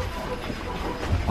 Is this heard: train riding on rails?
yes